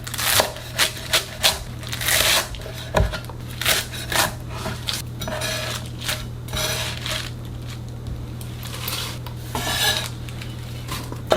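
A knife chops garlic chives into 4 to 5 cm pieces on a cutting board, giving a run of close, irregular sharp knocks and taps over a low steady hum.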